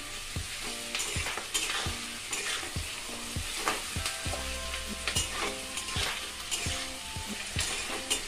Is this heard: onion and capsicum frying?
yes